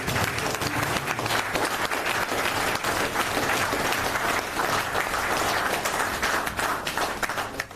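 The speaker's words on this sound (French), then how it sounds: "Est-ce qu'on peut applaudir" Loud, dense audience applause at a celebration event in a hall, many hands clapping close and continuously without pause, no speech over it.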